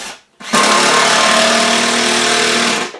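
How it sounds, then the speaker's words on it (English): A power drill drives screws through a wood shelf into the wall, running as a steady, loud, whining buzz for about two and a half seconds after a short quiet start. "we're going to run more screws in"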